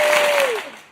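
Brief burst of applause from a gathered audience at a Juneteenth committee event, loud at first, then tapering off within a second while a voice calls out over it.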